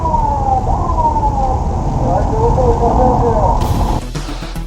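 A police car siren wails loudly and close by at a highway toll gate, its pitch sweeping up and down, then cuts off abruptly near the end.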